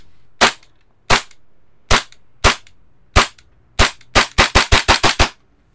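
A Krytac Kriss Vector AEG airsoft gun fires sharp, loud single shots, six of them spaced roughly evenly, then a rapid burst of about seven quick shots, with near-silence between shots.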